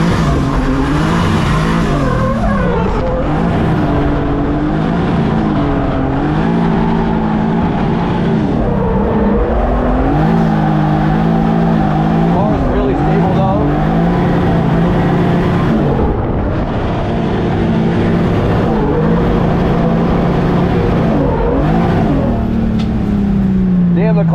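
A drift race car engine screams hard at high revs in second gear, bouncing off the rev limiter almost continuously, very loud and close for the whole stretch with brief dips and pulses.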